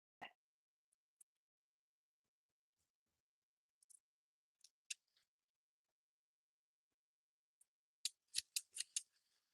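Scissors cutting scrap paper for cat cards, scattered single snips in near silence, then a quick close cluster of five or six crisp cuts toward the end.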